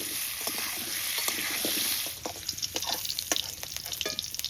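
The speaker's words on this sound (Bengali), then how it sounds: "এবার আলু ভাজবো।" Potatoes frying in hot oil already used for eggs with salt and turmeric: a loud, steady sizzle for about two seconds, then softer crackling broken by scraping stirring clicks.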